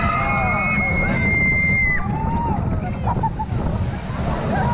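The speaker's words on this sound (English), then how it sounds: "Water effects." Water effects splash and rush loudly and continuously around a theme park ride at Parc Bagatelle, with wind buffeting the microphone and brief voices and calls in the mix.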